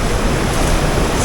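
Loud, constant roar of ocean waves surging into a sea cavern at Chin Beach on the Juan de Fuca Trail, Vancouver Island, a dense wash of surf and wind noise with no pauses.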